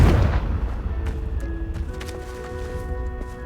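A loud explosive blast from the Confringo spell in Hogwarts Legacy bursts at the very start, then fades into scattered crackles and ringing tones over low game ambience.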